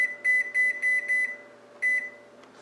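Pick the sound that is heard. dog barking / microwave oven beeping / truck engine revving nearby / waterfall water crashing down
microwave oven beeping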